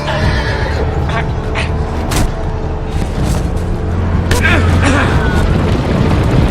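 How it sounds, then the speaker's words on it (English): Horses neigh and whinny in a video game amid loud, busy game noise with thuds and booms, while a voice talks over the chaos. "Horses!"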